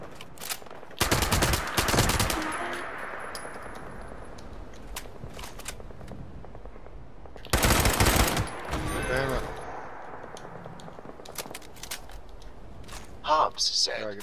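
Video game gunfire rattles out in two loud, rapid automatic bursts separated by quieter stretches, ending with a few sharper shots, with no talk over it.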